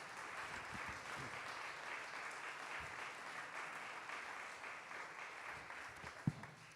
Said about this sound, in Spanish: Demos un aplauso al Señor en esta mañana.